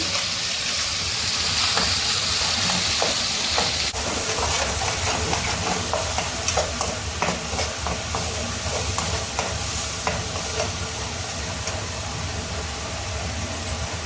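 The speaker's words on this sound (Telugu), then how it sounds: "దాంట్లో ఎర్రగడ్డ పేస్ట్ వేసుకోండి." Onion paste frying in a pan for a hotel-style kadai masala mixed vegetable curry, a loud steady sizzle and hiss with scattered stirring scrapes and pops near the pan, no talking.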